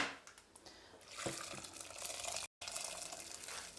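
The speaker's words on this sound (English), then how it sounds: "covering that with boiling water" Boiling water poured from a kettle over fish in a pan while making kedgeree, a broadband liquid rush that swells after the first second and continues steadily, close and fairly quiet, with a brief cut partway through.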